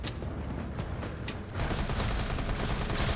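Rifle gunfire in Resident Evil 3, rapid continuous automatic shots rattling close and loud, growing denser and heavier after the first second and a half.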